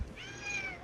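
A cat lets out a single short, drawn meow, clear but fairly quiet against a faint low background, with no talking.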